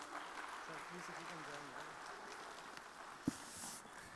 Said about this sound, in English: Big round of applause to Dheeraj ji for such a great, interesting